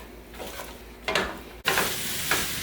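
Stewed cabbage with salted cod being stirred in a wide pan, a soft scraping stir and gentle sizzle in a few short strokes, fairly quiet with no talking.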